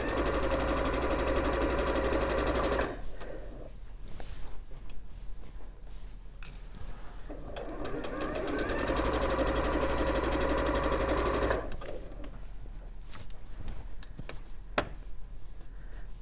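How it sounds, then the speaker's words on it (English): Sewing machine stitching needle cord fabric, a steady fast mechanical whirr running in two long bursts with a short pause and light clicks between, close and clear. "A little bit more ASMR sewing."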